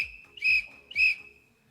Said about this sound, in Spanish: Vamos a escuchar 3 silbatos como este.